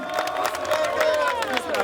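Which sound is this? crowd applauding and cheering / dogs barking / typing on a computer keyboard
crowd applauding and cheering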